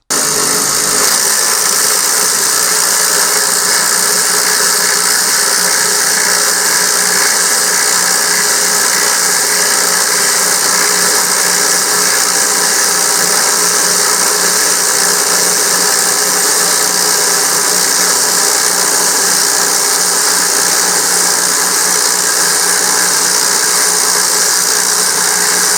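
An impact driver sinking a 0.36-inch lag bolt gives a loud, steady, buzzing hammering drone that runs unbroken for about twenty-five seconds without a pause, with no talking over it.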